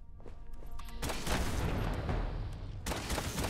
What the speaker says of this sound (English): Just shoot him in the face.